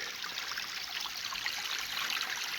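A creek flows steadily at a gold sluicing claim, with a continuous close rushing and trickling wash and no other sounds.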